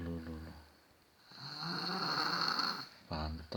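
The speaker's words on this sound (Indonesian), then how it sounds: "Banter ngorok ya." A small child snores while asleep, giving one long, rasping inhaled snore that rises and fades in the middle, with quieter breathing on either side and faint voices nearby.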